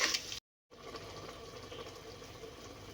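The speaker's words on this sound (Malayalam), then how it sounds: "ഇനി നമുക്ക് ആവശ്യമുള്ള വെള്ളം ചേർത്ത് കൊടുക്കാം കേട്ടോ." Water running into a pot of Kerala-style prawn biryani, a steady close liquid pour and splash that stops briefly after a moment, then resumes at a lower, even level.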